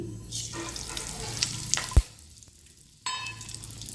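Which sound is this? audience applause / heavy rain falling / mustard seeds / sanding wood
mustard seeds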